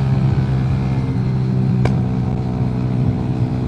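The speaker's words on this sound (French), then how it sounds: "Au niveau du son de l'échappement, ça fait un bruit assez sympathique. Bah, bon bruit de monocylindre" A steady, loud engine drone from the single-cylinder exhaust of a Mash Black Seven 125cc motorcycle, continuous and close, with wind rumble and one brief click midway.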